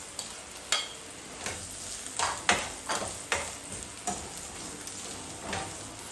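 Ginger frying in a pan for tilapia tinola, a steady sizzle broken by repeated scraping stirs every half second or so, close and moderately loud with no talking.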